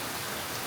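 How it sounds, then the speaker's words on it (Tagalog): Heavy rain pours down in a dense, steady hiss of drops striking surfaces, loud and unbroken. "Ewan ko kung nakikita nyo yung ang lakas ng ulan."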